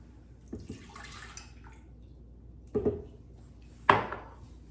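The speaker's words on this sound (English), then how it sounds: "So in the blender, I'm going to start off by placing coconut milk," Coconut milk poured from a container into a blender jar in a home kitchen, a soft liquid pour followed by two sharp knocks of the carton or lid against the jar, no talking.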